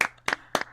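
Hand clapping from a small audience at a live variety show, three separate bursts of claps in quick succession, close and fairly loud with short pauses between them.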